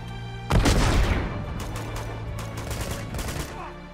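A rocket launcher fires in Uncharted 2 with a sudden loud blast that rolls into a long booming decay, followed by scattered gunfire cracks and rumbling in the background.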